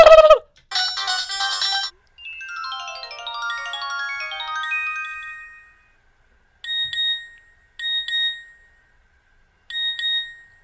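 An old Nokia mobile phone plays loud, bright electronic ringtone melodies: a sharp burst, then a fast descending run of synthesized notes, followed by three separate short repeated chirping rings with silence between them.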